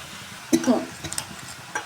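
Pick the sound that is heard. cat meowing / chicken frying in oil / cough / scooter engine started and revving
chicken frying in oil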